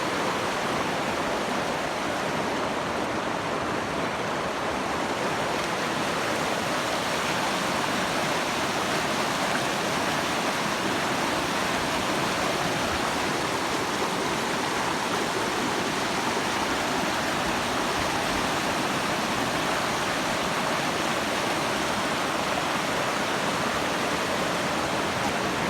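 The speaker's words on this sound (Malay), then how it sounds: "Inilah sungai Kurung Tuan." The Krueng Tuan river flows in a loud, steady wash of rushing water that continues unbroken throughout.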